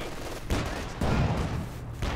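Shots in the Company of Heroes 2 battle game, a few sharp reports spaced about half a second apart over busy battlefield noise.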